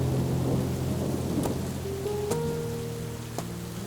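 Rain falls steadily while thunder rumbles low in the background, with a few sharp cracks and fading rumbles across the stretch.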